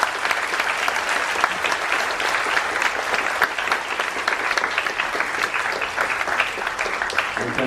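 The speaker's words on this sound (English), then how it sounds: "So a round of applause to everybody." An audience at a high school humanities symposium claps for the participants, a sustained, dense round of applause that carries on steadily, near and alone.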